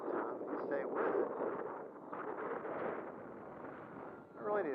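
Strong gusts buffet an outdoor microphone while a Delta Ray One flies, giving a close, rough, rising and falling rush that partly covers a voice.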